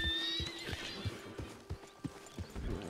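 A horse in the video game Red Dead Redemption 2 whinnies near the start, followed by a steady run of soft clip-clopping hoofbeats that continue to the end.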